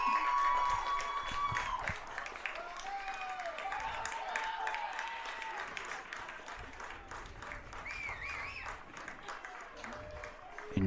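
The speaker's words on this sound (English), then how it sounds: "Enjoying the applause from the faithful Scots fans that made their way to Toppa Field." Gordon College fans applauding a 3-0 men's soccer win at Toppa Field in Newport, a modest, distant patter of clapping and crowd noise running steadily beneath an announcer's voice.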